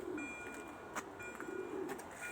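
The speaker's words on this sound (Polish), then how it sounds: "To jest czwarty gołąb. Czwarty gołąbek." A homing pigeon kept for breeding coos softly in a few low, rolling phrases, faint against a quiet background with no talk.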